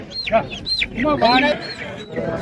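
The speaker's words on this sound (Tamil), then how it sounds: "நல்ல பெருங்களான சேவல்கள் நிறைய இருக்கு" Several roosters cluck and squawk up close at a busy, noisy market in Erode district, Tamil Nadu, with overlapping calls and some people talking in the background.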